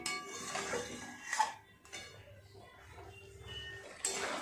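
Chicken being stirred and mixed with a little milk in a pan for chicken maharani, with spoon clinks and scrapes against the metal and soft sloshing, moderately close and fairly quiet.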